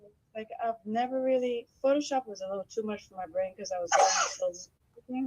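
A single sneeze bursts out in the middle of continuous conversation, loud and close, with people talking right before and after it.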